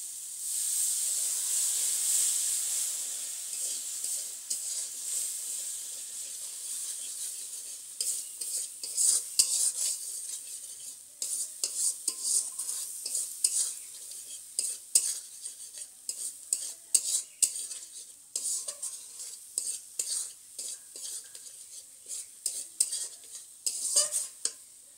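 A spice paste with water and sugar cooks in a pan with a soft sizzle. Frequent scraping stirs and clinks of a metal spoon against the pan come close and irregular, growing busier toward the end.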